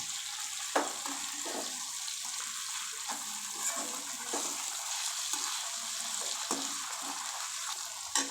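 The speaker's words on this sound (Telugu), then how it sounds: "ఉడకబెట్టి పెట్టుకున్న చికెన్ ముక్కలు వేసి చక్కగా కలుపుతూ ఒక ఐదు నిమిషాల వరకు ఉడికించుకోవాలి" Boiled chicken pieces being stirred and cooked in a pan with vermicelli, giving a steady, moderately loud sizzle and bubbling with occasional scraping stir strokes, no voices.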